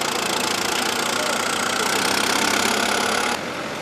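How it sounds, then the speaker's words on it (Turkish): A tractor engine runs steadily while sowing chickpea seeds in a field in Kayseri, with a loud continuous broadband drone and no speech, dropping slightly in level near the end. "Başkan Çolak Bayraktar traktör kullanarak tohumları toprakta buluşturdu."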